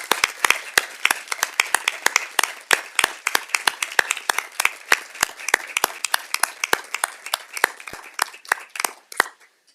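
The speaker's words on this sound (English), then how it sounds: "So a huge round of applause for all that they've done." A small group at a city council meeting applauds with scattered, uneven hand claps that keep going for several seconds before thinning out.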